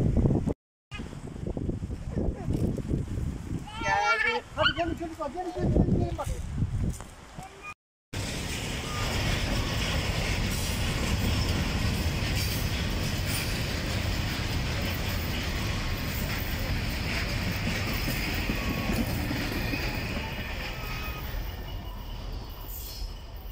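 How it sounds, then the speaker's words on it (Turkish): Voices speak briefly, then a steady loud rumble with wind-like rushing builds and continues as a train comes out of a tunnel close by, on the railway near Belemedik, Pozantı, Adana. "Delikten tren çıktı diyorum."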